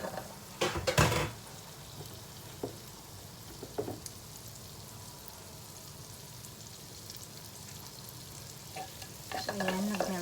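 Two tablespoons of butter melt in a pan, making a faint, steady sizzle, with a few soft clatters from a utensil near the start and again at the end.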